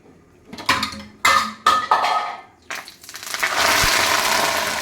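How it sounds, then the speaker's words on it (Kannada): Ground flax seeds and fenugreek drop into boiling oil, several clattering knocks and scrapes against the pan giving way to a steady loud sizzle and bubbling hiss, with no talk. "ಈಗ ಇದನ್ನು ನಾನಿಲ್ಲಿ ಕುದಿಯುವ ಎಣ್ಣೆಗೆ ಹಾಕ್ತೇನೆ ನೋಡಿ"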